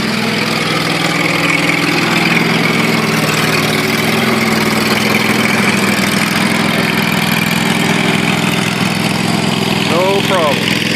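A 22 horsepower small engine runs steadily on a test stand, a loud continuous drone with a low hum that stays even for the whole stretch.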